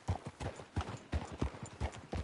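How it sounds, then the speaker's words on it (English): Horse hooves clip-clop in a steady, even rhythm at a moderate distance in the video game Red Dead Redemption 2, quiet and alone. "That's a strong-looking horse."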